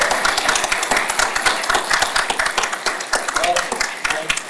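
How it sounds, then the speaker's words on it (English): An audience applauds a panel at the AdventureX 2025 event with a loud, dense burst of clapping that continues throughout. "I think that definitely deserves a round of applause."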